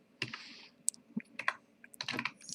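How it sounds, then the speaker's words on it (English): Quiet, irregular clicks and taps of typing on a computer keyboard, scattered keystrokes coming in small bursts with short pauses, close by and fairly soft, with no talking. "If you physically type in a period"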